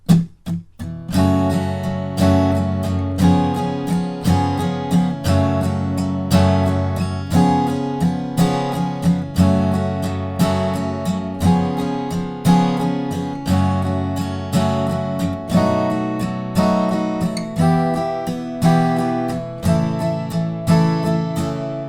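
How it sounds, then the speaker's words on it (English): An acoustic guitar strums the chorus chords of a song in a steady, repeating pattern, one strumming pattern per chord, clear and close, with no voices. "So in total, the chorus will sound something like this."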